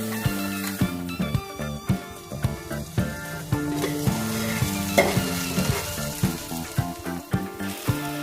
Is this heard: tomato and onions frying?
yes